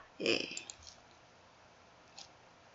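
A computer mouse clicks once, a short crisp tap, in a quiet room, with another very faint click moments later.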